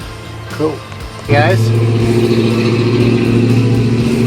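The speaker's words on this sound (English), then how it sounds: "I hear like loud freaking supercars going by all day long." A loud car engine roars in close by with a sustained low drone and revving, passing near a speed shop while someone talks briefly over it.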